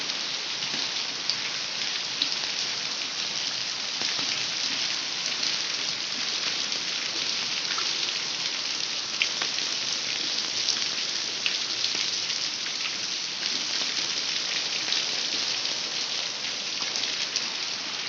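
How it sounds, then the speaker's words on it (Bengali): Heavy rain pours down in a dense, even hiss of countless drops striking surfaces. It stays loud and steady for about eighteen seconds with no voices. "এই দেখো কি পরিমাণে বৃষ্টি হচ্ছে"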